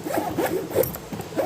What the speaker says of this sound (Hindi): बिल्कुल बेहतरीन है, बिल्कुल नहीं अटक रही है ज़िप।